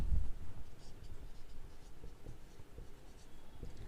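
A pen scratches figures into an accounts book in steady, close, continuous strokes with no talking.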